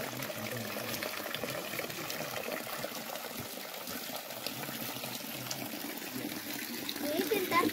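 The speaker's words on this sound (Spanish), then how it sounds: "en una fuente que el agua está helada. Se llama Fuente Nueva." Water runs steadily from the Fuente Nueva stone fountain, built in 1908, in the village of Patones de Arriba near Madrid, a close continuous splash and gush with a voice talking over it.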